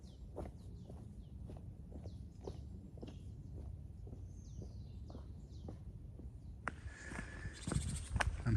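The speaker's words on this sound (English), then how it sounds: "I'm hearing bird noise on a consistent basis for the first time in this walk." Birds chirp in short scattered calls outdoors on a rural walk near Rouen, faint over footsteps and low background rumble, with a brighter burst of song toward the end.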